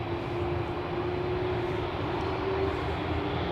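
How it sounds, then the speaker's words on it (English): A ULS Airlines cargo Airbus A310 jet holds at the threshold of runway 18 left at Amsterdam Schiphol, its engines producing a steady, broad roar with a sustained whine running unbroken and fairly close. "ULS Airlines cargo A310. Ready to go to Istanbul."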